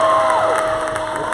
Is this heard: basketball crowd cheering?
yes